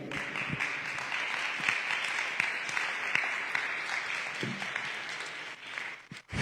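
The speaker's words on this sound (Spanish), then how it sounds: "Denle un aplauso al Señor." A church congregation claps steadily for several seconds, a full, even wash of applause that tapers off near the end.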